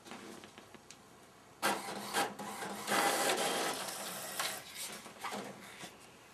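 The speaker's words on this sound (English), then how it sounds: "I'm just going to slide it into my printer, and then I'm going to print the one piece" A home printer feeds and prints onto paper-backed fabric for a quilt block, with whirring, rubbing mechanical passes that come and go in several bursts. It is fairly close and moderate in level, with no talking.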